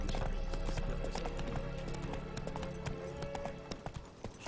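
Horse hooves clip-clop steadily in a video game, with occasional louder hoof strikes near the end and faint background ambience.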